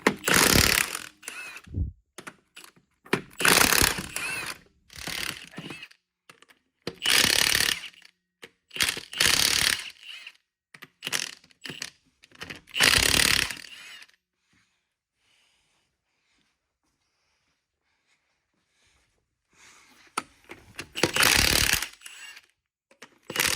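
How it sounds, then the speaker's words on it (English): Lug nuts come off the wheels of a Jeep Wrangler JL Rubicon in repeated loud, close bursts of a power tool, with quiet gaps between them and a long pause before the final bursts. "Can't wait to get rid of these lug nuts."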